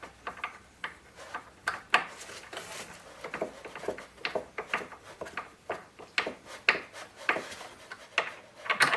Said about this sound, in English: you just screw 2 screws like this